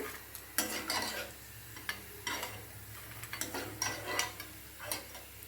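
Bitter gourd pieces fry in a pan with a quiet sizzle and are stirred with repeated spatula scrapes and taps in uneven bursts, close by and without talk.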